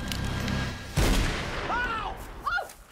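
A gunshot effect in a comedy movie trailer: a single sharp, loud bang cuts through a rumbling background, followed by quieter whistling, ringing tones.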